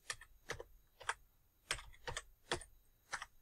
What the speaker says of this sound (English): I'll try typing it exactly the same twice